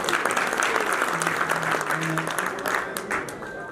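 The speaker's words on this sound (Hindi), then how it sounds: "तालियां बजाइए सर आप लोग" Applause from the audience at a potato fair as dignitaries are introduced, dense sustained clapping with a faint voice under it.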